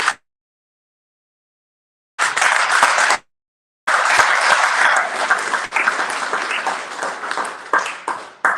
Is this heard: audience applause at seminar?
yes